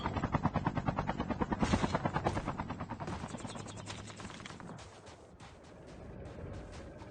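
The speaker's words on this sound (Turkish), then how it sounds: "Şu anda üstümde bir helikopter, altında bir tank." A helicopter's rotor thumps steadily and loudly overhead in Call of Duty Mobile Battle Royale, a rapid chopping pulse that fades slightly toward the end, with some game effects mixed in.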